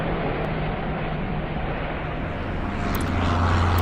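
An airliner takes off in the Airport Madness video game, a loud, continuous engine roar and rushing noise that swells slightly toward the end, with faint electronic game tones near the close.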